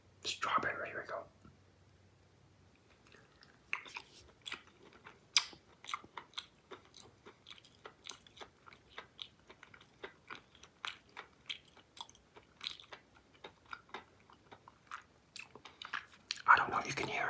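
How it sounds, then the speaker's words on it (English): Close, quiet chewing of Trolli Sour Brite Crawlers strawberry gummy candy, with soft sticky crunches of sugar coating repeating steadily, bracketed by brief whispering at the start and end. "I can hear the sugar crunching in my mouth"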